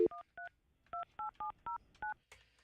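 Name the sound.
dialing a landline princess phone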